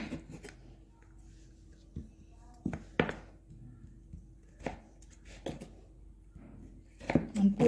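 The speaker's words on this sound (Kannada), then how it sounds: "ಇದೇ ರೀತಿ ಆಲೂಗಡ್ಡೆನ ಕಟ್ ಮಾಡಿ ತಗೊಳ್ಳೋಣ." Knife cutting potatoes on a board, a handful of soft, irregular chopping taps with quiet pauses between them, close and faint.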